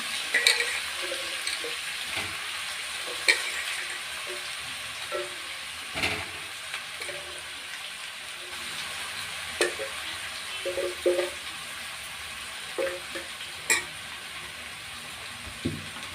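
Ash gourd pieces in a pan for a vegetarian Bengali ghonto, a soft steady sizzle with periodic clinks and scrapes of a spatula stirring, moderately quiet and without talk.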